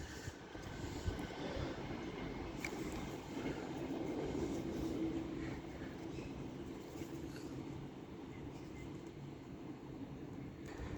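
Locomotives 67022 and 82229 roar through at speed on the West Coast Main Line at Cheadle Hulme, a loud rumbling rush with rattling wheels that holds steady throughout.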